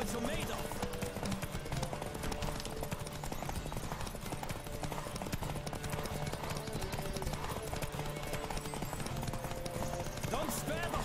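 A horse gallops in the video game The Witcher 3: Wild Hunt, its hoofbeats rapid and rhythmic, with steady clip-clop under a constant rush of wind.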